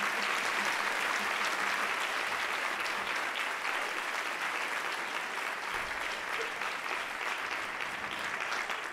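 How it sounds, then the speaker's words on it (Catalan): An audience at the Filharmònica de Porreres Christmas concert claps steadily and densely for the orchestra, a continuous even wash of applause with no breaks. "fem un fort aplaudiment a nosaltres"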